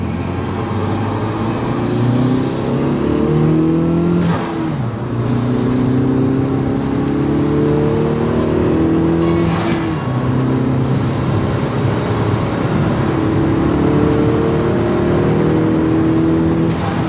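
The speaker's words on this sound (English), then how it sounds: "I'm gonna just do a normal pull on, so you guys can hopefully hear what it sounds like recirculating" Hyundai Veloster with a Go Fast Bits DVX valve in recirculating bypass mode pulling hard through second gear: a loud, close engine drone whose pitch climbs steadily and repeatedly through the run, with no talking.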